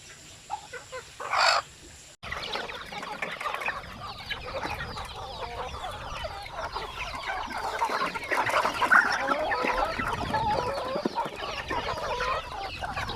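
Chickens cluck and chatter continuously at close range, a busy overlapping flock noise with a brief louder call near the start.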